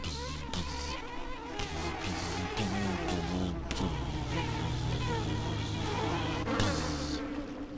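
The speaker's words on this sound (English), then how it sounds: "Oh look, bees!" Swarm of bees buzzing in the video game System Shock 2, a steady insect drone running throughout alongside game music and effects, with faint speech mixed in.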